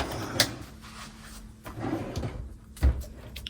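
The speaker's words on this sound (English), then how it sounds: "Pull out shelf. Shelf or drawer?" A pull-out shelf drawer in a Fiat Ducato camper van conversion slides and knocks, giving a few close, short bumps and a rumbling glide with a firm thud near the end.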